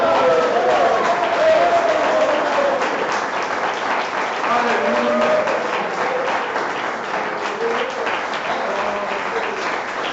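A large church congregation claps steadily and loudly throughout, with voices calling out over the applause.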